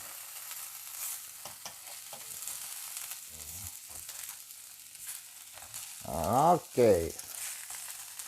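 Eggs frying in a pan give off a soft, steady sizzle, with a brief voice speaking near the end.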